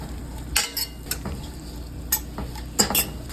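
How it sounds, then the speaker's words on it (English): A spoon stirs a cinnamon-spiced butter sauce in a pan, with irregular metallic scrapes and clinks over a low, continuous sizzle close by. "then go ahead and just stir that all together"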